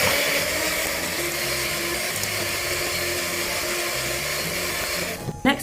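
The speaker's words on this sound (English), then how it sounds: "Then I'm going to whisk all of this up again." An electric whisk whirs steadily while mixing biscotti batter with whole aniseeds, a constant loud motor hum with slight pitch shifts, stopping with a clatter just before the end.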